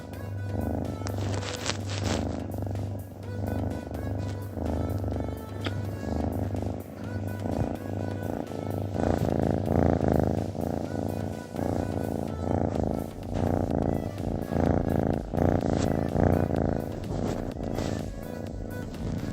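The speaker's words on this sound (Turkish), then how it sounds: "kedi mırıltısını dinliyoruz şu an" A cat purrs steadily and continuously up close, a low rumbling drone that pulses rhythmically with each breath, with no talking.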